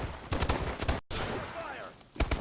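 Gunfire from the Call of Duty: Advanced Warfare game, loud bursts of rapid rifle shots in short volleys, broken by a brief gap and a whooshing sweep before more shots.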